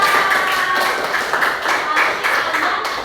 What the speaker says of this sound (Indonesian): Iya, tepuk tangan buat kita semuanya.